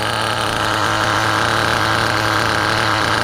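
HPI T3.0 nitro engine fitted in a vintage HPI Nitro RS4 RC car, idling steadily with a loud, continuous buzzing drone that holds even throughout, no voices.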